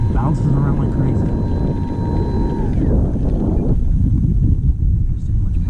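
A Seniorita model airplane taxis on the ground, its small motor whining steadily for a few seconds before cutting off, leaving wind buffeting the microphone.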